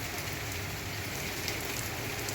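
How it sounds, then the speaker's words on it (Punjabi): Steady rain falls continuously, a dense even hiss of drops on surfaces with no voices. "ਬਾਰਿਸ਼ ਤੇ ਕਾਫੀ ਹੈ ਦੇਖ ਸਕਦੇ ਹੋ"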